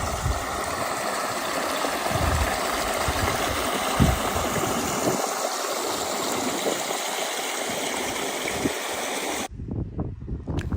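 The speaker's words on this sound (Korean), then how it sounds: "황금빛 실리카 급류와 시냇물이 합쳐져서 하나의 시냇물로 흘러갑니다." Golden silica-laden rapids merge with a stream on a New Zealand trail near Whakapapa, a dense, continuous rushing roar of water that stays loud and steady before cutting off abruptly near the end.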